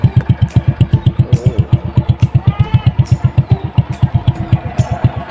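A Honda Astrea Legenda motorcycle idles close by on its original exhaust, which is corroded. It gives a loud, regular putt-putt with evenly spaced pulses, and faint voices and background chirps come through underneath.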